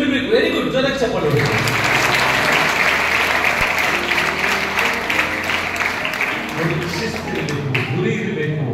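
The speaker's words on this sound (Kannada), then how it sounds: "ವೆರಿ ಗುಡ್, ಜೋರಾಗಿ ಚಪ್ಪಾಳೆ." An audience of children at a Kannada motivational talk bursts into vigorous sustained applause, loud and dense throughout with some voices underneath.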